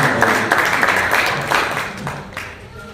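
A church congregation at a Thanksgiving retreat claps for the King, a dense, fairly loud wash of many hands that fades gradually over a few seconds.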